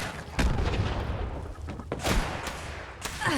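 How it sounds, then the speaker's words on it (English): A grenade goes off in Fallout 76 amid gunfire-like blasts: heavy booming bursts near the start and again past the midpoint, over continuous rumbling battle noise. "God, grenade."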